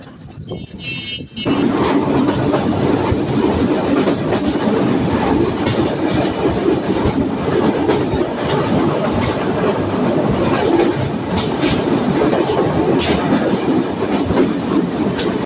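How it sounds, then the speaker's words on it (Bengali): The Benapole Express pulling out of Khoksa railway station, heard from on board as a loud, continuous rumble of carriages with steady clickety-clack wheel beats, following a short quieter opening. "আমাদের 795 বেনাপোল এক্সপ্রেস ট্রেনটি কিন্তু খোকসা রেল স্টেশন ছেড়ে যাচ্ছে"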